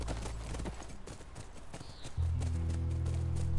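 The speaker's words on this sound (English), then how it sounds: "That's our horse." Rhythmic horse hooves clip-clop steadily over ground while riding near a ranch in The Last of Us Part II, under constant game ambience and a low rumble that thickens toward the end.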